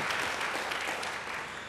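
A church congregation claps during a sermon, producing a sustained burst of loud, dense applause that gradually tapers off toward the end.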